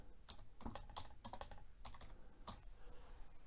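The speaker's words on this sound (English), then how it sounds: "So I'm using the keyboard." A password is typed on a computer keyboard while setting up WiFi on a RetroPie system: a steady run of close, crisp key clicks with brief pauses and no talking.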